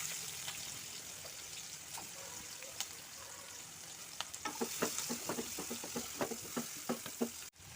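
Onions hit hot oil in a pan for Telugu fish curry (chepala pulusu), after turmeric and cloves, giving a steady close sizzle broken by scattered pops and stirring clicks that grow busier toward the end.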